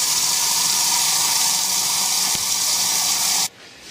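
Warm water pours and splashes steadily and loudly onto a dry leather drum head soaking in a tub, a continuous rushing hiss that stops abruptly near the end.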